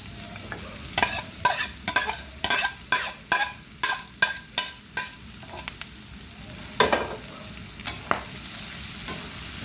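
Tomatoes sauté in a hot pan for pork binagoongan, with a steady sizzle under a rhythmic run of utensil scrapes and stirring knocks.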